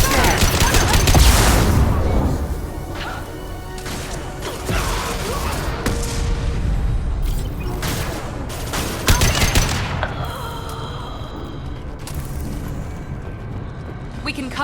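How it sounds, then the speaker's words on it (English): Loud, dense gunfire in Mass Effect 2: rapid bursts and repeated shots from several weapons with booms and mechanical clatter, continuing throughout with brief voices in the mix. "Open fire!"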